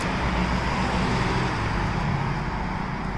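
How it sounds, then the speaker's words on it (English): Busy street traffic heard while crossing a road, with cars, buses and trucks rumbling past in a steady, dense roar that holds loud and continuous throughout without a break. "Whoa, a lot of traffic."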